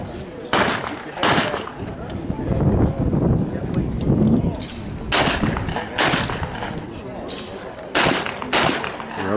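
Shotguns fire at a skeet shooting competition during a shoot-off, about eight sharp cracks spaced a second or so apart, loud and near over outdoor wind and faint voices.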